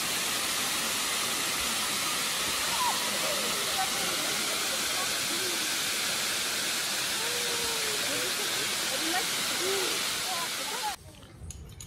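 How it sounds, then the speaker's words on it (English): Steady, loud rushing water from a waterfall in Kyrgyzstan roars continuously, with a faint whistle-like tone running through it. "This is the waterfall."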